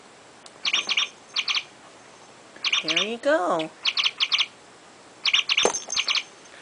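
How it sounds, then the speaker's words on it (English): A toy chickadee chirps when a pet parakeet pushes it down, giving repeated short bursts of bright electronic chirps. A warbling squawk sounds midway, and a person speaks briefly. "You push chickadee down so he can chirp for you."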